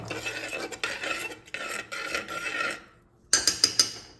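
A spoon stirs spinach and lentil curry in a metal pot, making rasping, scraping strokes that run continuously, pause briefly, then return as several sharp, rhythmic scrapes close by.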